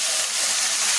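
Finely chopped palak spinach sizzling in hot oil in a pan, a continuous loud hiss with no pauses.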